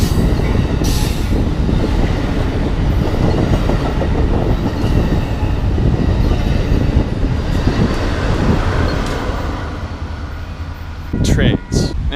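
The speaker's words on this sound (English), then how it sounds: "Trains." Train passing near a beach barbecue spot at Aliso Beach, Laguna, a loud continuous rumble of rolling wheels and rail clatter close by, with squealing wheels and a few sharp clanks near the end.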